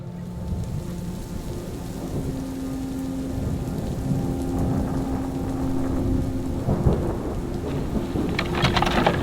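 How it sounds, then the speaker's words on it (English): Heavy rain pours down during a thunderstorm as it arrives over a small town, with rumbling thunder throughout and a louder burst of rain and crackle near the end. "Massive thunderstorms that were forecast for tomorrow have arrived"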